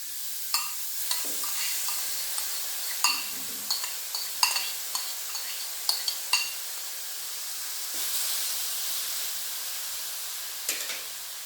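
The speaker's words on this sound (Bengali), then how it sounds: "গ্রেট করা গাজর আমি কড়াইয়ের মধ্যে দিয়ে দিলাম।" Grated carrot cooking in ghee in a kadai for halwa gives a steady soft sizzle, broken by repeated scraping and clinking strokes of a spoon stirring against the pan, with no talking.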